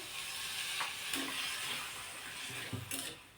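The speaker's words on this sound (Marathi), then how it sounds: "आता हे जे पाणी आहे ते वरून टाकते" Water is poured into a hot pan of cluster beans being cooked as a dry vegetable dish, giving a steady broad sizzle and hiss with faint stirring and utensil clinks throughout, close and moderately loud.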